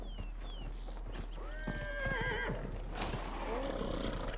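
A horse in the video game Dragon Age Inquisition whinnies loudly with a rising, wavering neigh, while clip-clopping hooves run steadily underneath and a voice briefly exclaims in the background.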